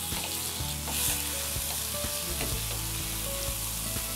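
Chopped tomatoes sizzle and fry in a pan with ginger garlic paste as the base for sausage pulao, a steady loud hiss with occasional stirring clinks.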